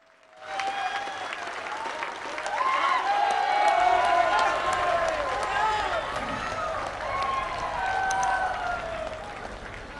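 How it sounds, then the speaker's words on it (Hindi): A large crowd at a public foundation-stone ceremony in Odisha claps loudly and steadily, with scattered shouts and cheers mixed into the sustained applause. "आप लोगों की तालियां बजती रहे।"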